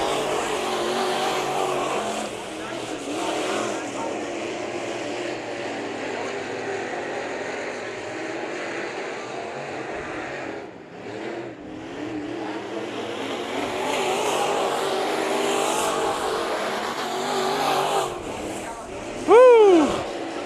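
Race cars roar around the Bakersfield Speedway oval during heat races, a dense continuous engine drone with a brief dip and a sharp rising whine near the end, while a commentator talks over it.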